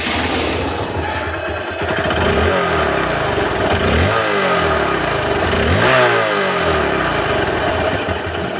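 A Hero Hunk motorcycle in fresh condition runs close by, its engine a loud steady drone with a few slow swells as the throttle is blipped, with no talking.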